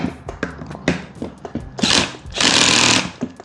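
Loud power tool, likely an impact driver, loosening the screws on the reduction gearbox of a ground auger engine fitted to a bicycle, with several short bursts followed by a sustained harsh rattling run.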